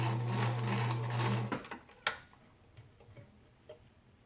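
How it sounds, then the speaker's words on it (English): Sewing machine stitching fabric for a surgical mask, a steady mechanical whir for about a second and a half, then stopping, followed by a few sparse clicks and taps as the fabric is turned. "Turn your fabric and continue stitching down the other edge"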